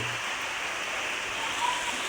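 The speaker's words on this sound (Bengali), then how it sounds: "এই যে বাইরে বৃষ্টি হইতেছে, অনেক বৃষ্টি পড়তেছে আমার দিকে" Rain falls steadily outside on a cool, rainy day, a dense even hiss with no break and no talking.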